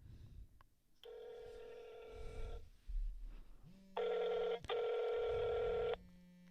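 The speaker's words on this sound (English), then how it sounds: "So now I'm going to try calling the phone with this other phone I have here" A mobile phone on a Cricket Wireless line rings for an incoming test call, giving two sustained electronic ringtone bursts over a low hum and faint room noise, with no one talking.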